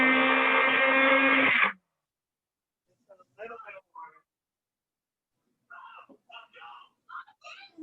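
A small bullet blender whirs loudly for about a second and a half while blending vegan un-tuna salad, then cuts off abruptly, and people speak in short bursts afterward.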